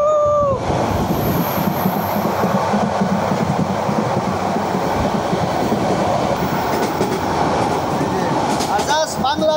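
An express train bound for Chittagong runs at about 100 km/h: a steady, loud roar of wheels and rushing air with rhythmic rail clatter and a few high squeals near the end.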